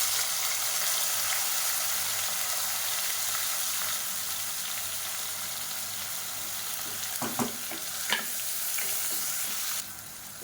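Long-sliced big onions hitting hot oil with whole spices like cardamom, a steady bright sizzle throughout with a few stirring scrapes and clinks near the end, close and fairly loud, no voices.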